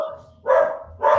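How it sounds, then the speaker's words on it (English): A pet dog reacts to a knock at the door of a home with two loud, close barks about half a second apart, with no talking. "That's my dog. Someone knocked on the door."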